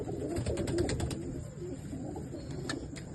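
Low, rounded cooing from a female Kalposhi pigeon repeats close by for a few seconds against a steady outdoor hum, with a few brief higher clicks.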